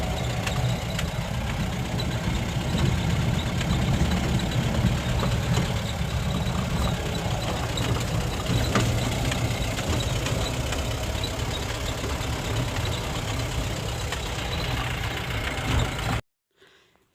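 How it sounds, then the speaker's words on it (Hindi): Engine of a Mahindra Bolero pickup (BS4) with a no-start fault, running steadily on a test drive on the road, a continuous low rumble heard close up and alone until it cuts off near the end. "तो चलिए अभी टेस्ट ड्राइव करके देखते हैं कैसा जाता है।"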